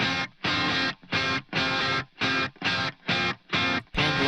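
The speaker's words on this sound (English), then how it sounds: "for this one, I wanted the guitars not to be as heavy" An electric guitar through a lighter distortion preset plays chopped, rhythmic chords, with nine evenly spaced bursts separated by short silences.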